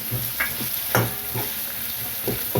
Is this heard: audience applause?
no